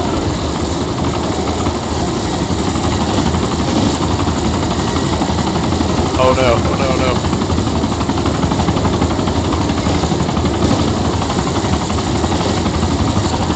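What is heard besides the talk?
helicopter engine after being hit, from a video game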